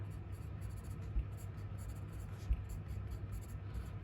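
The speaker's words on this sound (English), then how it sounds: "I'm writing" Faint, steady scratching of a pen on paper as someone writes by hand, quiet and continuous in a still room with only a couple of soft taps.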